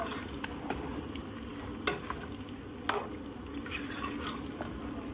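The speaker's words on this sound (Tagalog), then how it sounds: "Yung haluin muna natin." A pot of Filipino chicken tinola is stirred with a spoon over a steady simmering hiss, with a few soft clinks of utensil against the pot.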